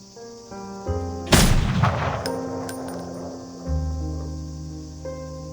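Gunfire at a rebel base, a single heavy booming shot cutting through a sustained musical score, with a couple of fainter cracks trailing after.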